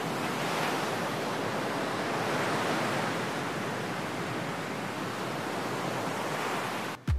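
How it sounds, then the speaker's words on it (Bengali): Sea surf roars steadily at Patenga beach in Chittagong, a dense continuous wash of breaking waves with wind mixed in, loud and unbroken until a brief thump at the very end. "বেশ কিছুক্ষণ দাঁড়িয়ে দাঁড়িয়ে আমরা এই সমুদ্রের গর্জন এবং বাতাসকে উপভোগ করছিলাম"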